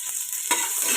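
Garlic hits a hot pan and fries, a soft hiss that jumps into a sharp, bright crackling sizzle halfway through, close and continuous with no voices.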